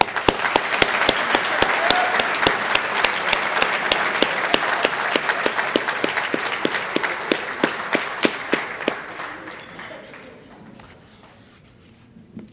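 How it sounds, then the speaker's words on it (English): A crowd at a football hall of fame induction ceremony applauds with sharp, rapid claps, loud and sustained before gradually thinning out and fading toward the end. "Give Jack another round of applause."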